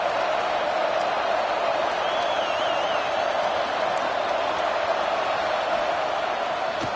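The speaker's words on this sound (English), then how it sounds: "3rd down and the crowd really getting into it." Steady roar of a stadium crowd at an American football game on third down, a dense wall of cheering that holds evenly throughout, with a brief whistle-like tone cutting through midway.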